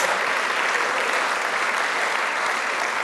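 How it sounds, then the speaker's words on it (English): An audience at a conference plenary session gives steady, dense applause, a continuous wash of many hands clapping at even loudness throughout. "Yeah, big round of applause."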